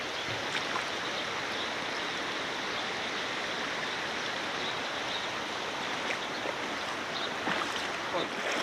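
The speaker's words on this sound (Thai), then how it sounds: "น้ำไหล" Floodwater pours through a breached dike into rice paddies, continuous rushing water roaring steadily, a broad dense wash of flowing water with no pauses, heard close and loud.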